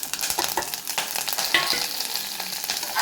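Drumstick leaves hiss and crackle in a hot pan with browned onions and curry leaves, close and fairly loud, as a spoon stirs through them in quick, uneven strokes.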